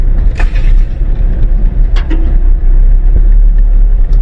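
A truck drives a narrow sandy track in the Central Kalahari Game Reserve, its engine a loud low rumble throughout, with a few sharp scraping brushes of branches against the vehicle and no talk.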